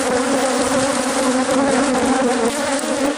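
Honeybees from an aggressive, vicious hive being requeened, droning in a dense, loud, steady buzz very close by, with no voices and no pauses.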